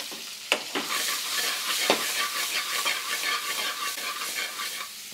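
Onions, peppers and green chilies drop into a hot frying pan and crackle in a loud, steady sizzle with brief spatter bursts and stirring, close up with no voices.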